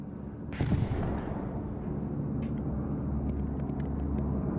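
Bombs from an air raid in the World War II shooter Hell Let Loose, a sharp burst followed by a heavy, steady rumble of distant explosions and engine drone.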